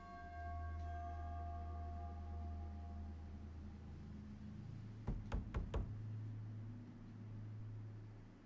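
Four quick knocks on a wooden door in the horror video game The Casting of Frank Stone, sharp and close, rising over a steady low ambient drone with sustained tonal music fading underneath.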